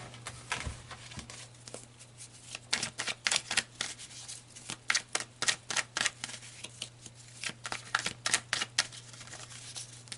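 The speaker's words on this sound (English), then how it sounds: "So let's pull some tarot cards." Tarot cards being shuffled, a quick run of crisp paper flicks and riffles in bursts with short pauses, close and fairly quiet over a steady low hum, no talking.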